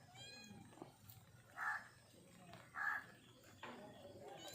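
A house cat meows twice in clear, separate calls amid quiet household sounds, with faint background noise and occasional voices.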